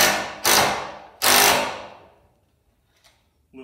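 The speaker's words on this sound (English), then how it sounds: "What do you think is stronger? The little hammer drill? Or the high speed drill?" A small power drill, either a hammer drill or a high speed drill, bores through wood in two short, loud bursts that each trail off. A faint click follows in the quiet.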